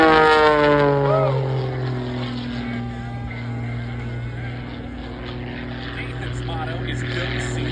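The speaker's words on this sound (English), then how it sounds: "Flying this de Havilland DHC-1, designed as a trainer for the Royal Canadian Air Force" A de Havilland DHC-1 piston propeller trainer flies an aerobatic air show display, its engine drone loud and steady with the pitch shifting as it maneuvers, under an announcer's voice.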